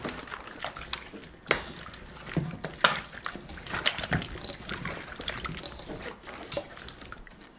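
Water splashes and trickles unevenly, with soft clattering and sloshing as radish kimchi is rinsed under a running tap.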